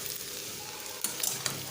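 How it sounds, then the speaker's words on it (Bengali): Chunks of young jackfruit sizzle steadily in a pan while a spatula stirs them, and a few sharp scraping knocks stand out over the continuous close crackle near the end. "এঁচোড়টাকে আমি একটু ভাজাভাজি করে নিচ্ছি"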